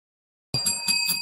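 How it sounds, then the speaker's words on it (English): A small bell rings suddenly out of silence, struck a few times in quick succession, its bright sustained tones lingering clearly and close with no talking. "I'm ringing the bell."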